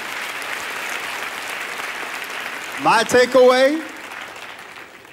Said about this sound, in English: give God a good hand clap offering.